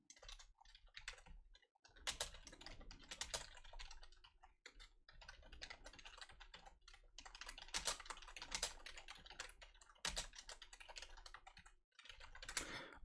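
Someone types code fast on a computer keyboard. The keys clatter up close in dense, uneven runs with a few short pauses and no talking.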